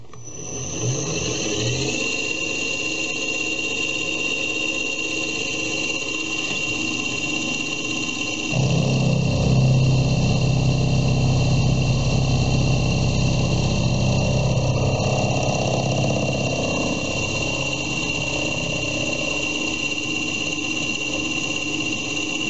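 A milling machine takes a finishing cutter across a steel vise jaw, producing a steady, loud machining drone with a whining motor tone that deepens and grows heavier partway through as the cut engages.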